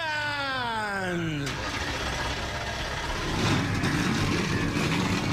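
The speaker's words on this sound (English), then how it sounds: "Okay, engines fired up." Race car engines firing up in a Daytona racing video game: a rising starter whine sweeps up, then a loud, dense rumble of several engines idling and revving together for the rest of the moment.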